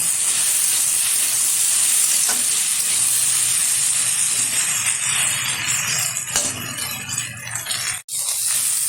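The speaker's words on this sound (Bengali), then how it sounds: "ঘন ঘন নাড়িয়ে ভেজে নিচ্ছি ভেন্ডিটা।" Sliced okra fries with sugar and slit green chillies in a hot pan, giving a loud, steady sizzle and hiss with occasional stirring scrapes throughout, then a brief sharp clink near the end.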